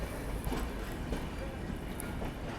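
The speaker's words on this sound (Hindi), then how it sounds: "कोई तो ट्रेन वहाँ एंट्री भी ले रही है।" Dhauli Express passenger train running on the Kolkata–Puri line, heard from aboard as a loud, continuous rumble of wheels on rails with a steady rattling texture and no pauses.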